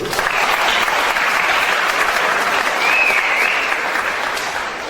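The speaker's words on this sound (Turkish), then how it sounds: "Burada bir daha kocaman bir alkış istiyorum." Sustained applause from an audience at a sports club event in Bursa, honouring the technical team, loud and even throughout with no pauses, the dense clapping filling the whole stretch.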